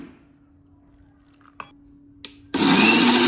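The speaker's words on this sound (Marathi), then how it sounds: "आता वाटून घेऊया." A kitchen mixer grinder grinds a masala of green chillies and fresh coriander. It kicks on suddenly as a loud, close whirring burst after a quiet stretch that holds a low hum and a couple of faint clicks.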